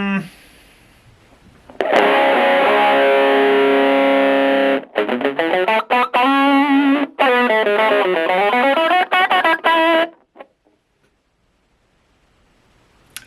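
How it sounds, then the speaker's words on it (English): Heavily distorted electric guitar through a Strich SEA-20 desktop amp on its distortion channel, sustained chords then choppy riffs with abrupt stops, loud and close, ending in silence. "Let's go to the distortion channel."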